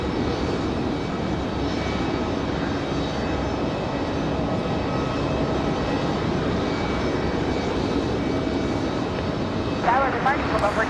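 Airbus A319 jet arriving at Raleigh-Durham airport, a loud sustained engine roar rolling past nearby, with a brief higher whine near the end.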